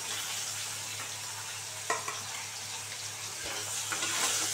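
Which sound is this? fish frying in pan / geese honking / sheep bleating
fish frying in pan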